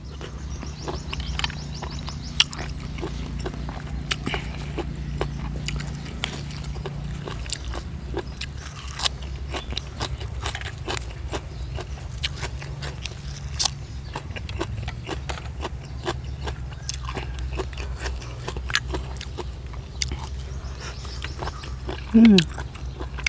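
Crunchy biting and chewing of boiled apple snails dipped in a fermented fish sauce, outdoors in the cool evening, with repeated close crisp bites and chews running under intermittent talk.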